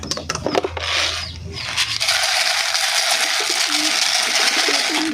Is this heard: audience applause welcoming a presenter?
no